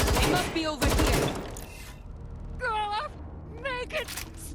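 Bursts of gunfire in the video game Watch Dogs Legion open the clip, loud and close, followed by voices calling and a lull.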